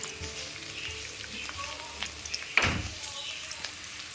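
Ingredients for coconut rice fry quietly in a pan on low flame, a soft steady sizzle with a brief louder clatter near the middle, heard alone.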